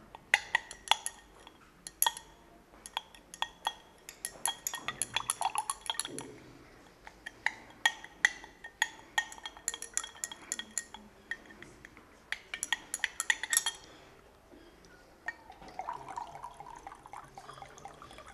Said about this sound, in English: dissolve all the crystal by using glass tube